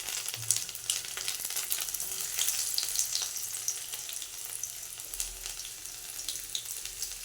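Chopped garlic fries in hot oil with chilli, bay leaf and cumin, giving a steady close crackling sizzle with small popping bursts throughout.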